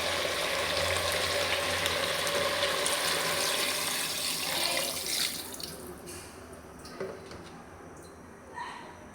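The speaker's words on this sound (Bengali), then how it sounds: "এখন ঝোলের পানি দিয়ে দেব।" Water runs steadily into a pot of chicken curry to make gravy, a loud even pour that tapers off after about five seconds, leaving light clatter and a few faint knocks.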